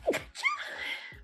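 A single sharp human sneeze, close and fairly loud, with a quick intake then a bursting release, during a tabletop role-playing game session.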